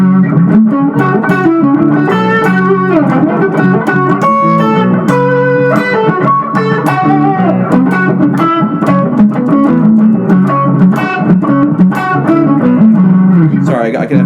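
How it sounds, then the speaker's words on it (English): Electric guitar soloing over a minor jam, phrasing on minor pentatonic chord tones with distorted, effected tone; loud and continuous, dense melodic lines with bends and held notes throughout, no talking. "I'm just going to take the solo from the form 4 pentatonic and I'm really going to sit and kind of focus on those chord tones"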